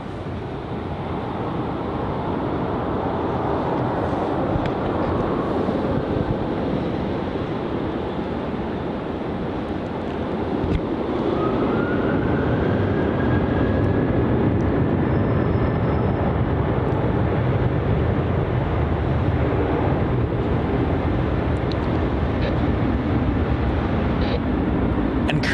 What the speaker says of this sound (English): Departing now off runway 34, we're going to have Virgin Australia flight VA 811 off to Sydney